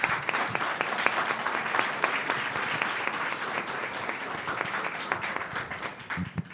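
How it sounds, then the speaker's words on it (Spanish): Warm, sustained applause from an audience at a lecture welcoming a university rector, many hands clapping in a dense, even patter that holds steady throughout. "Y lo recibimos también con un caluroso aplauso,"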